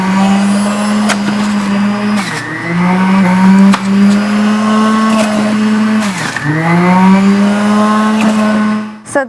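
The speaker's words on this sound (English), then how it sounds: "going to use our handy dandy juicer" A countertop juicer grinds apples with a loud, steady motor whine that sags briefly under load twice as fruit is pushed in, then stops abruptly at the end.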